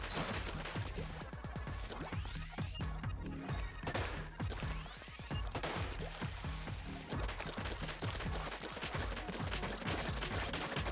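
A rifle fires in Splatoon 3's Side Order mode, a rapid stream of sharp repeated shots with crashing hits over game music, loud and continuous with brief pauses.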